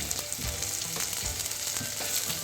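Sliced onion hits hot oil and fries with a loud, steady sizzle and crackle, all the way through and without speech.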